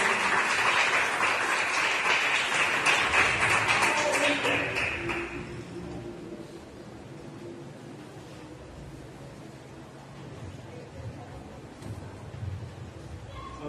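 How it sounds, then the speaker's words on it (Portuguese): A church congregation at a worship service claps in a dense burst for about five seconds, then the applause stops abruptly and gives way to quieter room sound with faint voices and movement. "Palmas ao Deus"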